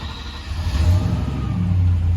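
A 1990 Land Rover Defender 110 with an EFI V8 engine rumbles loudly and close, a deep throaty idle swelling slightly as it settles after start-up.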